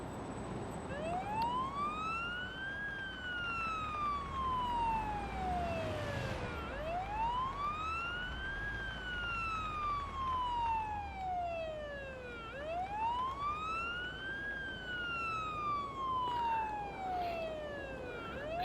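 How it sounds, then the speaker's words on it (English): Ambulance siren from the paramedic simulator game Ambulance Life, a steady wail sweeping slowly up and down in three long cycles, loud and continuous over a low engine and traffic rumble. "The only time we can go through that is if we pop on the siren."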